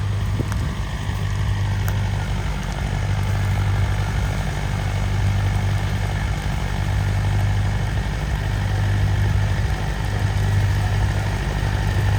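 A 605 Power Plus tractor engine runs on a farm with a loud, unbroken low drone and a steady hum, close by and even in level throughout, with a couple of faint clicks and no speech.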